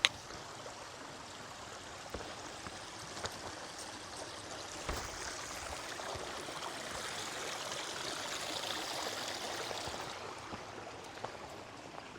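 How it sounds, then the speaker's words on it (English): A small creek flows steadily along a hiking trail, its broad trickling and babbling continuous and fairly close, with no voices over the water. "So we just crossed this beautiful little creek here"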